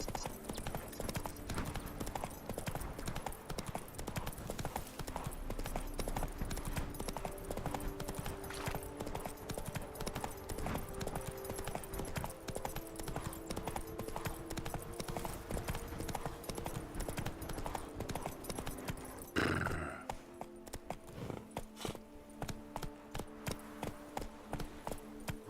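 A horse gallops steadily in The Witcher 3 video game, with continuous rhythmic hoofbeats under game music and ambience, and the footfalls shift and thin out near the end.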